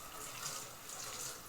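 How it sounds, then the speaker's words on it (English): Water poured from a tap over a Kai Pro 5.5-inch prep knife at a kitchen sink, a steady close splashing hiss with no voices. "throw a little bit of water over the Kai Pro"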